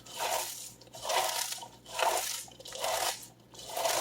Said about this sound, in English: And as you mix, you're really trying to crunch this up